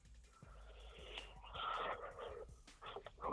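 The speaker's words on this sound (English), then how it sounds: "Just hear a lot of breathing." Raspy, wheezing breaths come over a phone line from a caller, uneven in rhythm and close to the mouthpiece, with no voices.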